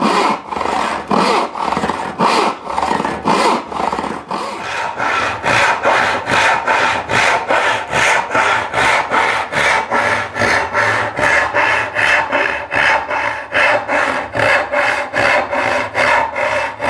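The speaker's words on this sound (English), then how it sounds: "One thing I will say about this saw is that it's large and heavy, but it's still fairly easy" A large, heavy hand saw cuts wood for a step stool tenon in steady, loud back-and-forth strokes, each rasping pass evenly spaced with a brisk rhythm that continues for the whole stretch, with no talking.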